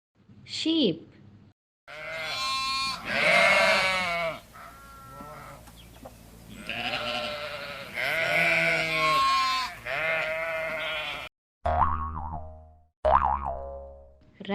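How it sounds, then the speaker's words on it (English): Sheep bleating in a children's farm-animal lesson, a few clear wavering bleats standing out loud and close amid cartoon sound effects and music, with short gaps between calls. "Sheep."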